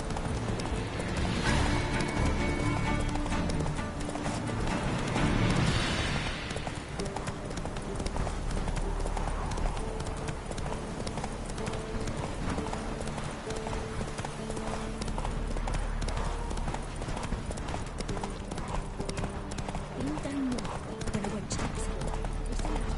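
Roach the horse galloping in The Witcher 3, rapid rhythmic hoofbeats continuing throughout, with occasional snorts and a brief voice in the background.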